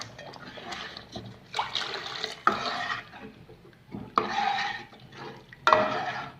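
Water is poured into a pot of tiffin sambar and stirred, giving bursts of splashing and scraping with sharp clinks of a ladle against the pot, close and fairly loud, with no voices.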